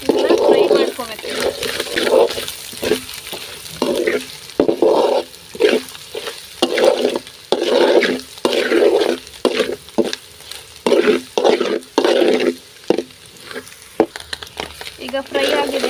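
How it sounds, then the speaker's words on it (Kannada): Chilli powder and salt fry in a pan for egg rice while a spatula stirs in a steady rhythm of repeated scraping bursts over a low, continuous sizzle. "ಇದನ್ನ ಫ್ರೈ ಮಾಡ್ಕೋಬೇಕು."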